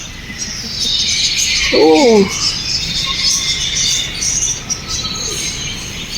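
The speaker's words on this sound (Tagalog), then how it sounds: "Oo nga, ang daming ang ibon dito." Many birds chirp and call inside a biodome aviary at an ocean park, a dense high-pitched chatter running throughout with one louder nearby squawk near the middle, while people talk briefly.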